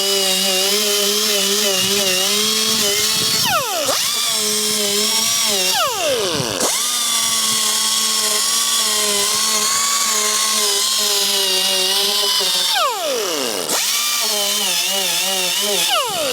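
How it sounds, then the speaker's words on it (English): A power grinder works over a damaged car body, a loud, steady whine held for long stretches, then spun down and restarted several times, each restart sweeping back up in pitch. "so I'm going to grind it down first to see what the situation is"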